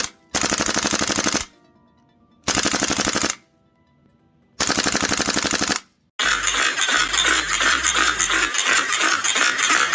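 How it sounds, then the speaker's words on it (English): A WE Tech AKS74u gas blowback airsoft rifle with its dust cover open fires three loud full-auto bursts of rapid clacking shots, each about a second long and separated by short silences, followed by a dense noisy rattle. "this is me holding my WE AK with the dust cover open. We're gonna let it do some rat-ta-ta-ta-ta."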